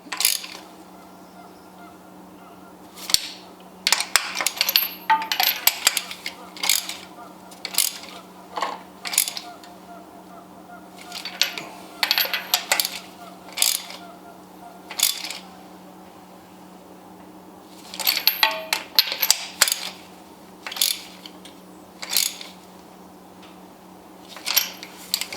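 Spark plugs are tightened by hand on an Acura ILX engine, producing irregular bursts of metallic ratcheting and clicking with short quiet gaps over a low steady hum.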